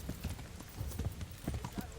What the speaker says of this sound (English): There's my horse. Mount.